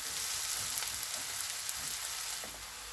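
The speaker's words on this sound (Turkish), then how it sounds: "Salçamı da kavuracağım kokusu bitmesi için." Tomato paste frying in a pan for an eggplant börek dish, giving a steady close hiss and sizzle with faint scattered crackles and no talking.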